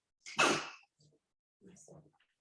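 A single sharp sneeze close to the microphone, followed by quieter breaths in a silent room.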